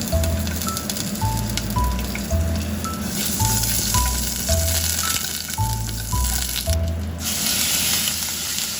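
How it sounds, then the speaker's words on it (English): Ginger sizzles in oil in a heated pan for a Japanese spicy ramen, a constant bright frying hiss, close and even, over a soft repeating musical pattern in the background. "Prepare a heated pan, add some oil and ginger."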